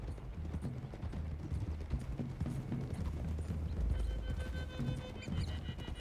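Horses walk in Red Dead Redemption 2, a steady clip-clop of hooves on a trail with a faint whinny, all quiet and continuous over several seconds beneath ambient game sound.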